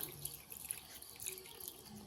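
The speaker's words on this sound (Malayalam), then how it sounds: "ഇതും മുങ്ങി കിടക്കാൻ രീതിയിൽ വെള്ളം ഒഴിക്കുക" Water is poured over salted tapioca pieces in a cooking pot, a faint, continuous splashing pour with light bubbling, no talking.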